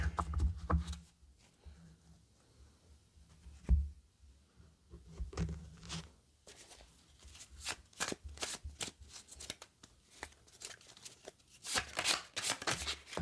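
Tarot cards shuffled by hand in quiet bursts of soft riffling and slapping, faint and close, with pauses between passes and no talk.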